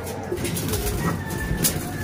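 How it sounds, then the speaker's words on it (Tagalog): A racing pigeon coos softly amid low background noise, a few muffled throaty calls close by. "Ito na yung isa nating ibon."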